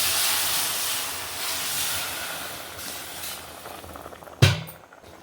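Jaggery and date syrup sizzles and hisses steadily as water is added to the hot pan, with a sudden louder burst of spluttering near the end before it settles.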